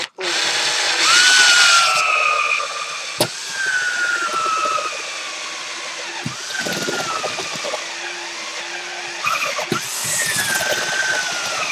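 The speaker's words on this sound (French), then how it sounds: "Perçage à 12 pour le switch." A power drill bores a 12 mm hole through a homemade box for a switch, with a loud whining drive that rises and falls across several bursts and a few sharp clicks and knocks between them.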